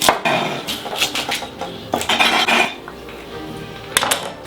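Knife chops fennel into strips on a board for a vegetable soup, a quick series of sharp close taps and clacks with brief pauses, no voices.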